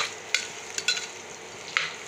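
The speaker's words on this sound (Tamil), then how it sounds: "இது ஒரு 2 நிமிஷம் மட்டும் பீட்ரூட் வந்து நல்லா எண்ணெயில் வணக்கி கொடுங்க." Beetroot sautéing in hot oil for a kurma, a faint steady sizzle broken by a few sharp scrapes and clinks of a spoon stirring the pan.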